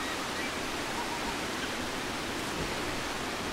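A waterfall in the game ICO gives off a steady, even rush of water that holds at a constant level with no breaks.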